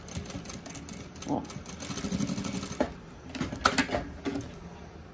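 A domestic sewing machine stitches fabric for a simple school pencil case in short bursts of quick mechanical whirring, pausing between runs, with someone speaking briefly over it.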